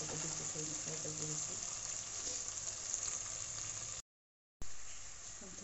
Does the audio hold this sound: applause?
no